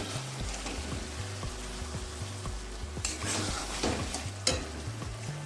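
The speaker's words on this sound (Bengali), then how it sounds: "এবার দিয়ে দিচ্ছি ভেজে রাখা ডিমটাকে" Pre-fried eggs dropped into a cooked spice masala whose oil has separated, for an eggplant-and-egg curry, giving a steady close sizzle and crackle of hot oil with a brief rise as they land; no voices.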